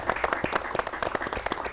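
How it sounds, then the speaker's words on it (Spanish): Applause from an audience at a panel event, a steady patter of many hands clapping fairly close, with dense overlapping claps throughout and no talking over it. "Un aplauso, muchachos"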